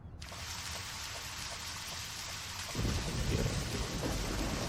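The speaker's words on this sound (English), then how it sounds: "It rains, huh?" Steady rain pours down in the video game Deadly Premonition, a continuous hiss that thickens as a low thunder rumble rolls in partway through, with no voices over it.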